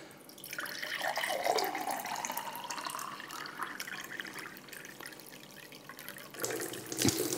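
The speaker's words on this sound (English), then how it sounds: "I can fill this nice glass of water up here. No problem, very fast." A reverse-osmosis system faucet fills a tall glass with water, producing a soft steady trickle with a rising pitch as the glass fills, then a brief louder splash near the end, close and quiet.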